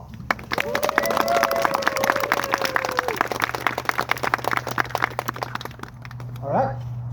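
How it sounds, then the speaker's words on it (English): Wedding guests applaud the couple with steady, dense crowd clapping that builds quickly and holds for several seconds before tapering off, with a faint voice and a low background hum underneath. "Let's give them a round of applause."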